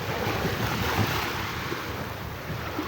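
Sea waves wash against the shore under gusting wind, a steady loud roar of surf and wind buffeting the microphone that fills the whole stretch without a pause.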